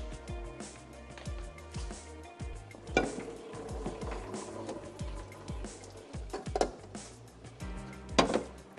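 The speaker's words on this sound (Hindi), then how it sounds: "और यहाँ पर जो हमारा पास्ता है ये बॉईल हो चुका है, तो मैं इसको स्ट्रेनर में निकाल लेती हूँ।" Boiled pasta is drained into a metal strainer in a home kitchen, with clattering pot and strainer knocks, scraping and the rush of water. The sounds come close and moderately loud, with no talking.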